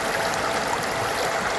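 River rapids along the Beachville Carmeuse Limestone Trail rush steadily and loudly, a dense, continuous wash of flowing water close by with no voices.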